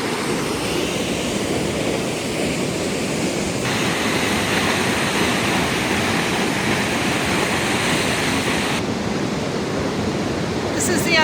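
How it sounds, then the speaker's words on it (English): Waterfall on Vancouver Island heard from a suspension bridge, a loud, continuous roaring rush of falling water that fills the whole stretch without pause. "There's the waterfalls."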